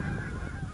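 A flock of waterfowl calls in a brief burst of overlapping honking cries, moderately distant and faint over a low background rumble.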